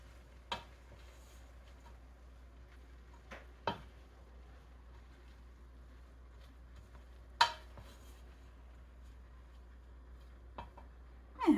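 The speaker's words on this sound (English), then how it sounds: "I will give it a nice stir." A spoon stirring deconstructed cabbage rolls in a cooking pot, heard as a few faint, sparse knocks and scrapes against the pot spaced seconds apart over quiet background hum.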